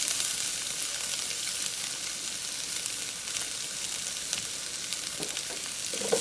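Asparagus and mushrooms hitting a hot pan with onions for pad thai, a loud, continuous hiss of sizzling oil that stays steady throughout, with a few faint clinks near the end.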